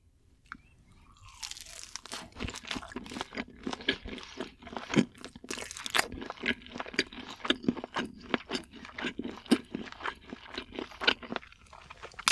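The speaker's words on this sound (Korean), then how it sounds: "순살 치킨은 타르타르 소스 찍어 먹어볼게요" Crunchy boneless fried chicken dipped in tartar sauce being eaten up close, with dense, steady crackling bites and chewing running continuously and loudly throughout, with no talking.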